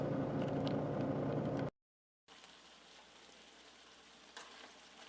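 Sausage and peppers cooking over high heat in a pan at an off-grid truck camper, a dense close sizzle that cuts out briefly, then returns as a fainter, thinner hiss.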